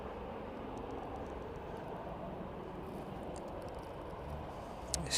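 Ryanair airliner departing East Midlands Airport on an evening flight to Alicante, a steady broad jet roar holding at moderate level throughout, fairly distant, with no talk over it.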